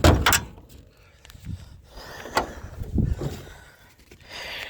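Hood of a 1974 Chevrolet Camaro Z28 being opened: a few close metallic clunks and latch knocks spaced over several seconds, with light handling noise between them.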